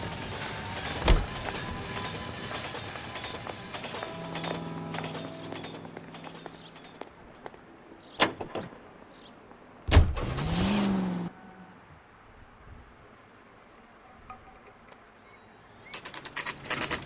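Period car driven in the L.A. Noire video game, a low engine hum running under scattered clicks and thumps, with a brief louder burst partway through and rising noise toward the end.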